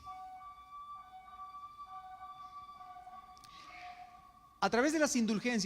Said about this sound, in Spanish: Dejemos que pase la ambulancia